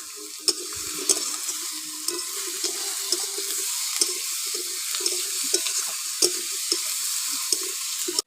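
Chopped potatoes go into a pan of frying tomato, turmeric, Kashmiri chilli powder and salt for a spicy fish curry, giving a soft steady sizzle with sharp spatula clicks and stirring scrapes at irregular intervals, no voices.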